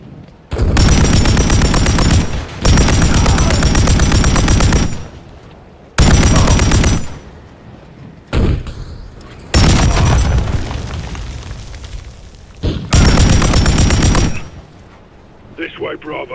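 Loud, close bursts of rapid automatic gunfire in Call of Duty: Modern Warfare 3, in several long volleys of about two seconds each separated by short quieter gaps, with battlefield noise between them.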